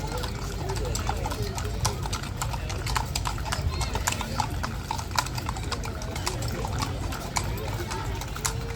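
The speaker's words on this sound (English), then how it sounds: "Look at those pretty horses." Horse hooves clip-clop in a steady, continuous rhythm during a cattle drive, with several animals moving together at close range, under people talking and a low outdoor rumble.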